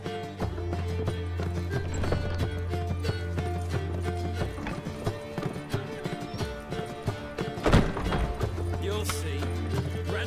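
Horse hooves clopping in The Witcher 3 game, a steady run of hoofbeats with an occasional whinny over a constant low game soundscape, with brief voices now and then.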